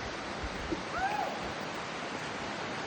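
Steady rushing water from a waterfall in Kodaikanal, India, roars as a broad, even wash of noise, with a faint bird chirp briefly audible over it.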